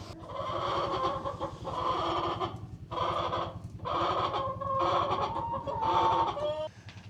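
Several chickens cluck and squawk close by inside a barn on a cold, snowy day in repeated bursts, with an overlapping low rhythmic cackle running underneath throughout.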